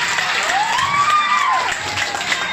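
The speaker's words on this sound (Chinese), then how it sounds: "我们给哇内裤大师一个掌声" An audience at a magic show during a charity family fundraiser claps and cheers for the magician, with a rising and falling whistle-like tone sweeping over the steady applause.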